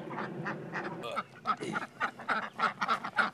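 Ducks kept for laying eggs on a farm with grass and a pond quack in a close, steady stream of short, nasal calls. The calls grow more frequent and louder toward the end.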